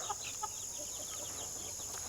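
Soft, scattered clucks and chirps from chickens over a steady background hiss, fairly faint and at a moderate distance.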